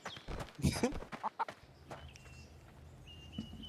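Chickens in the VR combat game Blade & Sorcery give a few short clucks and squawks up close in the first second and a half, then a quieter stretch with faint game ambience.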